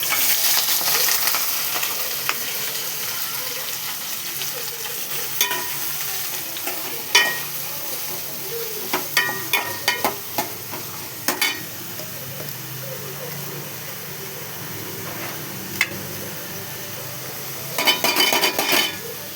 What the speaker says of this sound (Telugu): ఇది గోల్డ్ కలర్ వచ్చేదాకా వేయించుకోవాలి